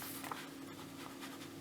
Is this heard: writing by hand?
yes